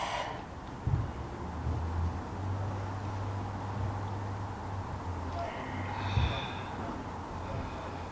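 Deep breathing during a Kundalini yoga exercise, slow audible inhales and exhales with a sharp snort-like breath near the start and another later, close and moderately loud, no talking.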